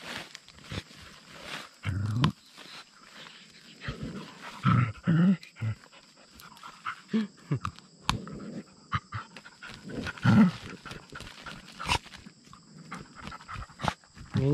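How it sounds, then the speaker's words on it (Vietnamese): Two dogs dig and scuffle in loose soil in a bamboo forest, with bursts of scratching, rustling and panting that come in irregular clusters, close and fairly loud, while people talk softly in the background. "Cái chó bốc đất vào mặt đấy."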